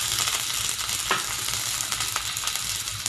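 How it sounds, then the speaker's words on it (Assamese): Chopped onions fry in a pan with a dense, steady sizzle and occasional stirring clicks. The sound is close and continuous, with no talk. "পিঁয়াজখিনি ধুনীয়াকৈ গল্ডেন কালাৰ হোৱালৈকে আমি ভাজি থাকিম।"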